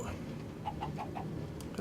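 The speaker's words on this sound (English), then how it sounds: "Hello, chicken." Chicken clucking in the Minecraft video game, a few short soft clucks in a quick series over a steady low background hum, faint and distant.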